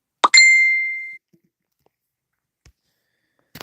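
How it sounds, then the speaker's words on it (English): A short electronic chime rings out once, bright and tonal, fading over about a second, followed by near silence and a faint rustle. "So sorry if you hear a couple of beeps and stuff."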